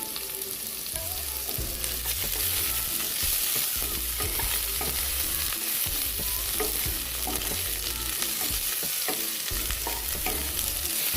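Food sizzles and fries steadily in a covered pan on a gas burner, a continuous close crackle with occasional stirring scrapes and no voices.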